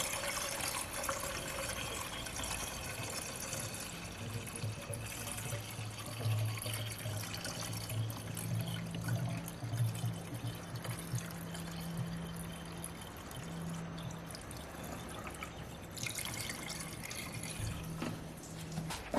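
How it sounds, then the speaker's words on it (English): Water pours steadily into a car's reservoir, a continuous trickling fill with shifting splashy texture, running close and moderately loud for the whole stretch. "just fill that reservoir up with water"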